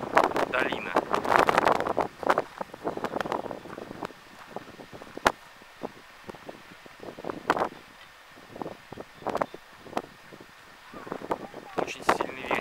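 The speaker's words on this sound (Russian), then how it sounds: "Очень сильный ветер, но ветер теплый." Strong, warm wind on the Yoshida Trail near Mount Fuji's fifth station buffets the microphone in heavy gusts, rumbling loudly at first, easing off, then surging again toward the end.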